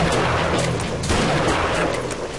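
Rifle gunshots in the hunting video game Deer Drive ring out loud and close, a rapid series of booming reports blending into a dense, echoing wash over the whole stretch.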